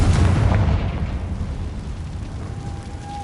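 Confringo blasting curse exploding in a Harry Potter video game, a heavy booming blast at the start that rolls into a long, fading low rumble, with a faint tonal whine appearing near the end.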